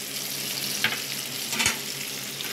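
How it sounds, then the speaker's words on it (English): Shrimp sizzle loudly in a hot pan, a constant crackling hiss with brief bursts of sharper spitting. "Nice sizzle."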